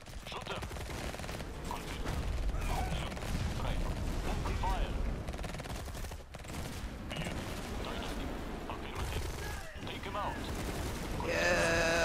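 Infantry units firing in the real-time strategy game Tempest Rising, with rapid crackling volleys and bursts of gunfire rattling continuously through a loud battle, under brief unit voice lines and commentary.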